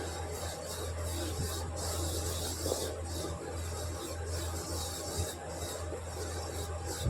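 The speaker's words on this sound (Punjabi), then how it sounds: "ਪਹਿਲਾਂ ਥੋੜਾ ਤੇਲ ਪਾ ਕੇ ਆਪਾਂ ਇਹਨੂੰ ਮਿਕਸ ਕਰ ਦਾਂਗੇ" Red chilli pickle spices with ajwain being mixed with oil make a continuous, close rubbing and rasping stir at steady loudness under a constant low hum.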